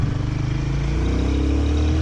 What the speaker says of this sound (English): Let's pull over to the left here and see if the motor can pull a little bit more revs.